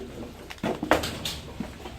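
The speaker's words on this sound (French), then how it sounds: "partout où on va, il y a des pigeons" Pigeons coo softly inside an abandoned hospital, a few low throaty calls with faint scuffs and patter in a quiet, echoing interior.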